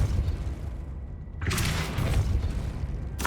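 A Depulso spell blast in the video game Hogwarts Legacy: a loud booming burst cuts in after a quieter stretch of game ambience and rumbles on, and a second sharp blast hits at the very end.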